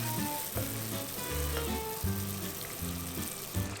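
Rice paper tofu soup bubbles vigorously as a glutinous rice flour slurry is stirred in to thicken it, a close, constant seething hiss under a low melodic background tune.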